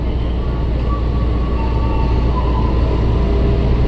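A KRL commuter train pulls out of Kranji station on track 1, heard from inside the car as a loud, steady low rumble and rolling hum with faint tonal whines, no talk.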